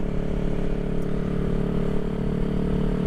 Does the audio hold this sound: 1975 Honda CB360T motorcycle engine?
yes